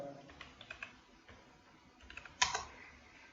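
Someone types on a computer keyboard while writing in an office document, a soft, fairly distant patter of keystrokes with a brief louder burst near the end, with no voices.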